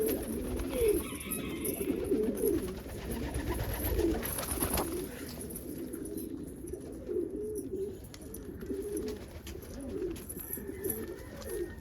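Pigeons in a loft coo in repeated soft, rolling phrases, close by and overlapping one another, with a thin high hiss and occasional rustles in the background.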